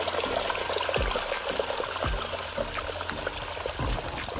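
Water rushes steadily through a gold prospecting sluice box with a crate at the top, a continuous close trickling flow with small knocks and rattles of material under it.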